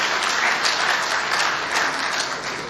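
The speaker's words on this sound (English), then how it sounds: "Please a round of applause for him." A hall full of guests at the opening ceremony of a Nigerian agricultural engineering institution bursts into loud, continuous clapping that fades slightly toward the end.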